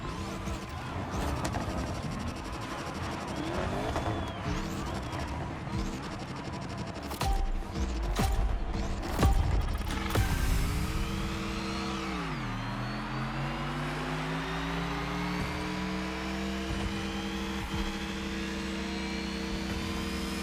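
A race car engine roars in The Crew Motorfest driving game during a Supercar Festival event, with mechanical clatter and revving that drop and then climb in a long, steady acceleration.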